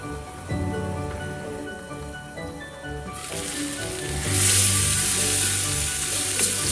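Chicken madras curry sizzling and frying in a pan, a steady close crackle that grows louder and brighter partway through, with no talking.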